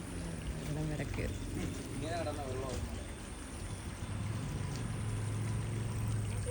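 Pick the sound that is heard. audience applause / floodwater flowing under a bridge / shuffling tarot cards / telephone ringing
floodwater flowing under a bridge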